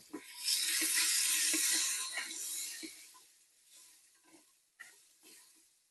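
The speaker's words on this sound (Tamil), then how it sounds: "வெங்காயம் அரைப்பதம் எண்ணெயில் வதங்கி அவிஞ்சிட்டுது" Whole small shallots sautéing in oil for varagu rice porridge, a loud close sizzle with stirring clicks that fades to quieter frying and a few scattered taps.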